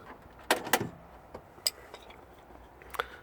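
Central locking latch of a Porsche Boxster S 986 door, a few faint mechanical clicks and clunks, quiet and close, with a small click after a pause.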